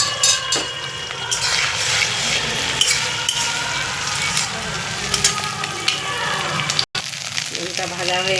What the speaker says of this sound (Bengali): এবার আমি ডিমটা ভেজে দিচ্ছি